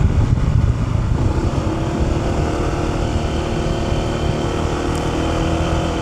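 A Honda ADV 160 scooter cruises on a semi-long ride, its engine drone and wind rush forming a loud, continuous rumble with no talking.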